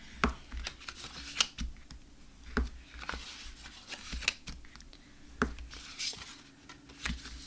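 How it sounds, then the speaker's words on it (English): Paper for a small box is creased and folded along a score line, producing faint, close crinkles, soft taps and rustles scattered irregularly, with no voices. "we'll just fold this along the score line"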